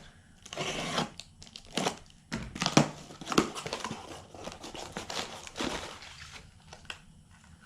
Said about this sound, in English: Next box, let's cut that open to see what's inside.